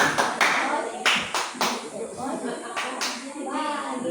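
A class of children claps together in an Indonesian thumb-clap game, several sharp group claps spaced out over a teacher's voice and children chanting along.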